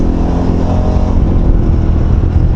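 A KTM 1290 Super Adventure motorcycle, ridden two-up, is throttled hard, its big twin engine roaring in a loud, sustained, gritty rev with wind buffeting mixed in and no talk.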